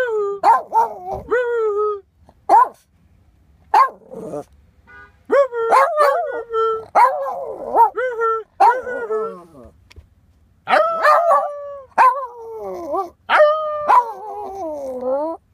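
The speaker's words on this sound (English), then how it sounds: "apparently this dog sings" A pet dog at home sings along in a series of rising and falling howls and whines, loud and close, in bursts separated by short pauses.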